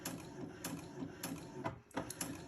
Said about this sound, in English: And it's printing out beautifully.